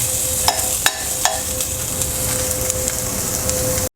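Carrots and other vegetables cooking in a pan over low-to-medium heat, a soft steady sizzle with a few sharp stirring clinks early on, no talk.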